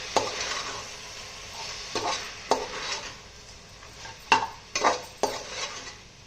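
Boiled chicken and mutton are stirred in a pan for a mixed non-veg biryani, giving a series of short scraping and clinking spoon strokes at an irregular pace over a soft, quiet background.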